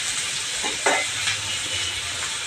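Ridge gourd peels stir-frying in a generous amount of oil until crisp, giving a continuous broad hiss with a couple of brief stirring scrapes.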